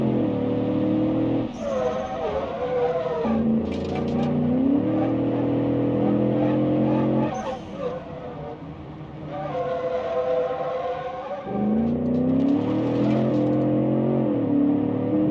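A car driving onto a highway in the driving game BeamNG, a loud engine drone rising and falling through gear changes, with the pitch climbing in steps as it accelerates.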